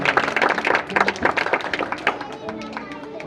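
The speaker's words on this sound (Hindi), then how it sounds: "जितने लोग विश्वास करते हैं जोर दिल से ताली मारिए इस जिंदा खुदा के लिए" A church congregation claps during a Hindi-language worship service, a loud burst of many hands striking in quick irregular bursts that thins out toward the end, with a voice speaking over it.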